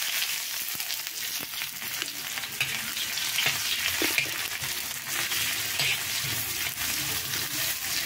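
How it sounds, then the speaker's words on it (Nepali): Sliced onion goes into hot spices in a pan and fries with a loud, steady sizzle, plus intermittent scraping and stirring clatter throughout. "अब जाँदैछ प्याज।"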